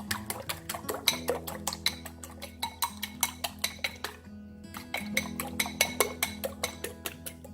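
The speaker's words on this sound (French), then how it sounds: "Vous frappez cela pour qu'il y ait un mélange." Two eggs are beaten in a plate with a utensil, giving a steady series of quick clinking taps on the dish, a short pause, then more even strokes, with no talk.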